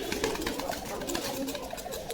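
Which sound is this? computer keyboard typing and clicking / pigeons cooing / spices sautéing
pigeons cooing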